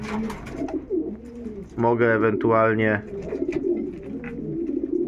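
Pigeons in a loft give a loud, close coo lasting about a second, then a second one, while someone talks before and after.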